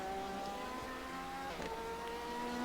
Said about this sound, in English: Enzo pushing hard in his Porsche.